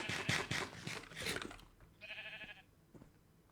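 A short sheep bleat in Minecraft with a buzzy, game-like quality follows a stretch of indistinct voices and clatter, then quiet.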